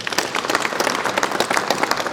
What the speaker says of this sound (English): I believe we deserve a round of applause for that